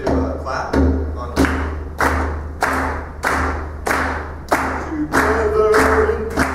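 Congregation at a Sunday church service claps along in a steady, loud rhythm of about two claps per second, layered over a sustained low musical drone, with singing faintly woven in.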